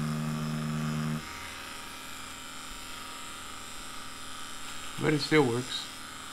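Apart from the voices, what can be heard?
Dragonhawk Extreme v2 direct drive tattoo machine running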